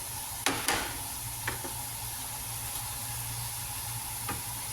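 Cabbage and green onion sauté with soy sauce in a pan for spring roll filling, a quiet steady sizzle with a few clacks of a utensil against the pan.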